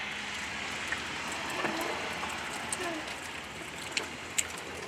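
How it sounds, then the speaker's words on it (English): Steady rain falling outdoors in Kingsport, Tennessee during stormy, windy weather, a continuous even hiss with a few sharper drip ticks near the end, no talking. "Rain has come to my neck of the woods."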